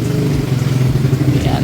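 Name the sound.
car engine running during aircon check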